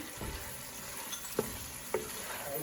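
Fried rava paniyaram being stirred into seasoning in a pan, with soft scraping stirs and two sharper utensil clinks against the pan over a faint sizzle.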